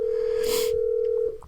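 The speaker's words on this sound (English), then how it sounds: "That's the phone." A telephone rings once with a steady electronic tone that holds for over a second and then cuts off, close and clear with no talking.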